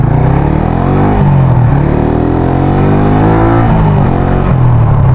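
A Yamaha Sniper 150 motorcycle fitted with a 140cc six-hole injector revs under the throttle, its engine note rising and falling steadily, loud and close with no talk.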